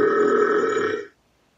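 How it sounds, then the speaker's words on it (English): An Amazon Alexa smart speaker plays an extreme burp sound effect: one loud, droning belch lasting about a second, then cutting off into silence. "That was an extreme burp."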